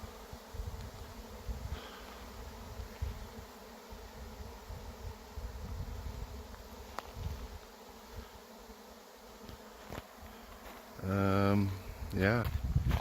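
Honeybees buzz faintly around a summer backyard hive, a low continuous hum under outdoor background noise, with a few sharper passing buzzes late on.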